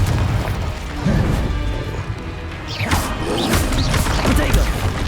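Confringo blast spells firing and exploding in the Hogwarts Legacy video game, a run of sharp crashing bursts and whooshes layered over a busy combat background.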